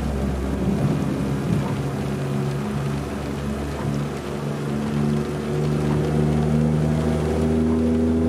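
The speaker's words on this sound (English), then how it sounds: "Good lord, that was a good lightning crack." Thunder from a lightning strike rolls through a rainy Alaska stretch of American Truck Simulator, a sustained loud rumble layered over a steady truck engine drone and rain.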